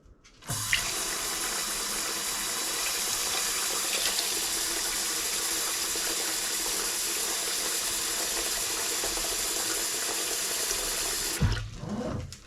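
Cold tap water runs steadily into a home canner for black beans, a continuous loud gushing stream from start to finish with a brief clunk as the flow starts and stops.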